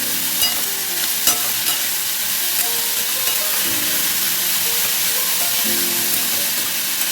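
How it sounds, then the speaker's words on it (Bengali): Vegetables and peas fry in a wok with salt while a spatula stirs them, a steady close sizzle broken by several sharp scraping knocks, with no talking. "আবার ভালো করে নেড়ে নেব।"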